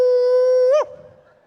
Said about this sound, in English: somebody's blowing a shofar